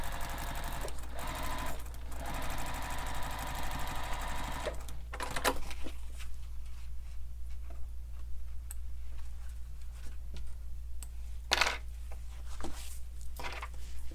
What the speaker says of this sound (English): So we're going to stitch along that top straight edge